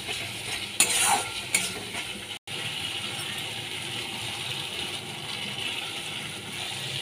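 Spices with Kashmiri chili powder are stirred and fried in a pan, giving a steady sizzle broken by a few loud scraping strokes early on and a brief silent gap.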